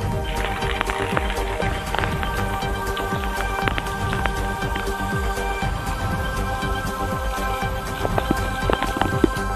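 Steady heavy rain falling and pattering on surfaces outdoors, dense and continuous throughout with no pauses.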